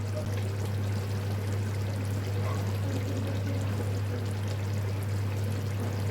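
Water pouring off parboiled basmati rice being drained for chicken biryani, a steady continuous stream close by over a constant low hum, with no talking.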